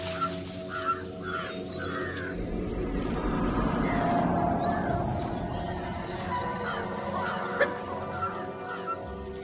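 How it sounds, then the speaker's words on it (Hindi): Alarm calls of jungle animals in Kabini forest, several harsh cawing, bird-like cries ringing out from mid-distance, with a low rumbling bed underneath and a brief louder call near the end. "ये अलार्म कॉल्स मुझे लेकर नहीं दी जा रही।"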